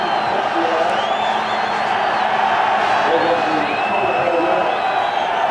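Steady crowd cheering and whooping for Nigel Mansell at the 1992 British Grand Prix at Silverstone, a continuous loud roar of a large outdoor crowd, with a commentator talking over it.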